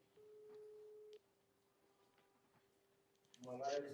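A phone call to a minister, placed live from a TV news office, produces a soft electronic ringback tone: one steady tone, then a fainter second one, followed by a louder burst of voice as the line connects.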